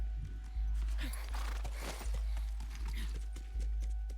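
Steady horse hooves clip-clop at a walking pace over a low rumble, with a faint whinny mixed in; close and regular, in The Last of Us Remastered video game.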